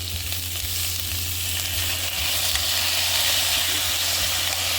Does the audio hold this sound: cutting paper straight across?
no